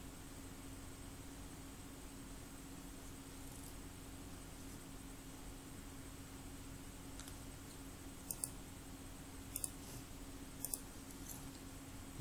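Computer mouse clicks while working in Oracle Fusion order management, a few faint, sharp clicks spaced over several seconds, some in quick pairs, above a steady low hum.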